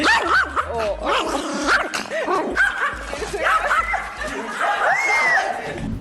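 A dog barks repeatedly in quick, high yips and bow-wows, loud and close, with whimpering tones between the barks.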